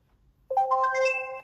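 A short electronic chime from an indoor IP camera connecting to Wi-Fi rings out after a moment of quiet, a bright rising cluster of tones held for about a second.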